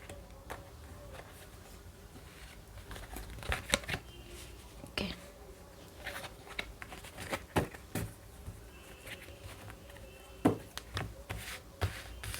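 Tarot cards handled and laid out on a surface, soft irregular flicks, slaps and shuffling rustles, close but quiet, with intermittent speech in the background.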